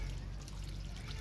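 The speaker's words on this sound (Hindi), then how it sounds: "तो पानी डालना स्टार्ट कर देते हैं" Water pours steadily from a vessel onto newly planted tomato plants in a garden bed, a continuous close trickling splash with no break.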